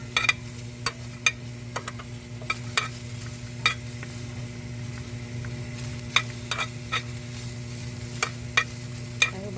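Onion and garlic stirred and browned in a pan, a steady sizzle with sharp clicks of a utensil scraping and tapping the pan at irregular intervals throughout.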